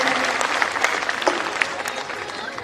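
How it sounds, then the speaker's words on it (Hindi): Applause from a seated audience welcoming a guest at a university induction ceremony, a moderate, steady patter of many hands with some crowd murmur underneath. "जोरदार तालियों से इनका स्वागत करें हमारे भाभा विश्वविद्यालय में"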